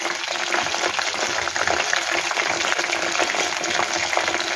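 Soya chunk kebabs frying in hot oil, a loud, steady, dense sizzle that holds without pause from start to finish.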